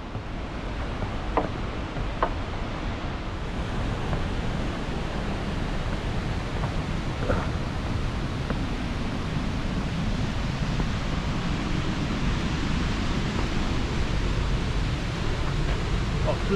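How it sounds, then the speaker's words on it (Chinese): Twin Falls waterfall in Lynn Canyon Park, North Vancouver, roars as a steady, dense rush of falling water that stays even and loud throughout. "孪生兄弟瀑布"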